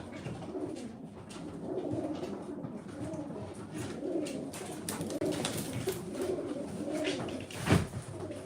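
Old-breed pigeons coo nearby in repeated soft, throaty rolls amid light rustling and faint background noise. A brief louder bump comes near the end.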